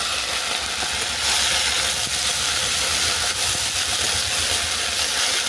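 Moringa flowers frying in a pan, giving a steady, loud broadband sizzle and hiss with a low rumble underneath, continuous throughout with no voices.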